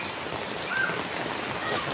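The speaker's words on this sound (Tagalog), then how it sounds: "lakas ng ulan dito" Heavy rain from inside a vehicle carrying passengers, a steady dense hiss of drumming drops, close and continuous, with no talk.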